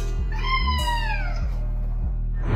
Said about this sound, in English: This orange cat's reaction to this plastic toy is too funny.